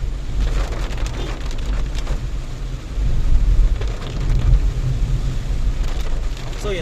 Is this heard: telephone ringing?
no